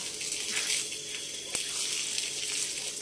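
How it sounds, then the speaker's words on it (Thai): Water splashes and pours steadily over an elephant being bathed in a tub to scrub off mud, a continuous hissing wash with a brief knock partway through. "อาบน้ำสูขี้ไครล้างที่โคลนออกนะคะ"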